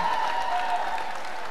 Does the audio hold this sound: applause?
yes